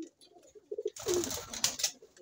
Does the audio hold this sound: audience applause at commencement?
no